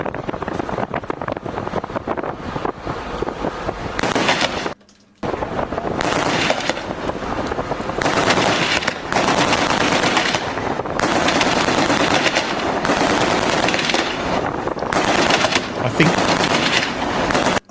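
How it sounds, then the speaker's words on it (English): A side-mounted .50 caliber machine gun fires from a Coast Guard vessel in long, loud sustained bursts, with one short pause, heavy wind buffeting the microphone throughout. "I think that's just a 50 cal, like the side-mounted 50 cal"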